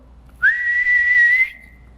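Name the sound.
sharp whistle blast starting a field day race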